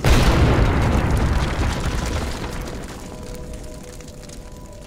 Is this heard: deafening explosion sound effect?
yes